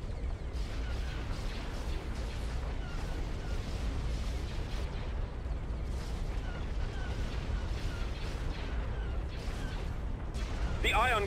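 Ion cannons and turbolasers fire during a Republic space battle in a Star Wars-style strategy game, making a dense, continuous rumble of overlapping booms and blasts with voices underneath.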